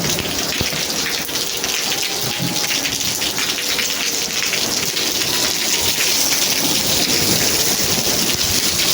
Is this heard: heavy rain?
yes